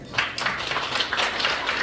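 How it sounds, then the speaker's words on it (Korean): An audience at a book launch event claps, producing a steady, dense patter of hands that carries evenly through the moment without a break and with no voices over it. "다시 한번 축하의 박수를 보내주시면 대단히 감사하겠습니다"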